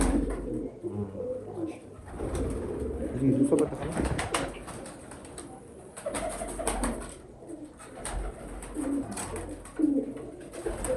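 Pigeons coo repeatedly in a loft of newly built coops, a near, low rolling cooing that runs throughout under a voice talking.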